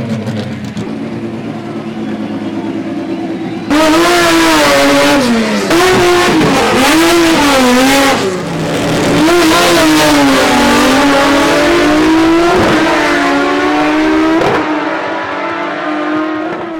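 V8 Ford and Chevrolet cars accelerating hard in a drag race, loud close engines roaring and rising in pitch through repeated gear changes for over ten seconds, with a quieter engine idle before the launch.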